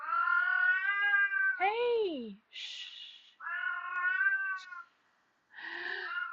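Pet cats meow loudly in a room, a long drawn-out yowl, a falling whiny cry and another sustained meow, with short hissy sounds in between as a person quietly hushes them.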